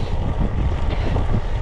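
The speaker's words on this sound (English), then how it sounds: "Very windy at the moment" Steady wind roars and buffets the microphone during a bike ride on a blustery day near Wijk aan Zee outside Amsterdam, a continuous broadband rush with low-end gusts and no talking.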